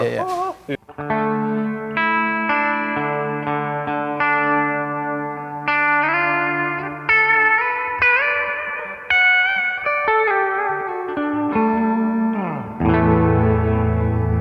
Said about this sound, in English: I have a spring reverb actually always on in this pedal